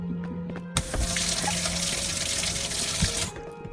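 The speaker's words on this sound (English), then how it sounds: "we want to wash our hands." Water gushes from a tap in the video game Animal Company during handwashing, a steady close splashing flow that starts abruptly, runs about two and a half seconds and cuts off, over faint background hum.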